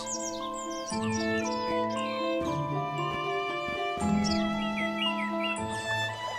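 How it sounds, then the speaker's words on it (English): Birds chirp and tweet in quick bright bursts over a steady bed of sustained tones, with the calls scattered throughout. "You start to hear birds and see flowers."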